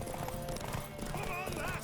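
Horse hooves clip-clop steadily in The Witcher 3 game, close and continuous, with an occasional whinny mixed in and a voice talking over the top.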